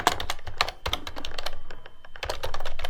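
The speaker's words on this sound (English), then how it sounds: "you can click in and start typing" Someone types quickly on a computer keyboard, a dense stream of close, crisp key clicks with brief pauses, heard alone without talking.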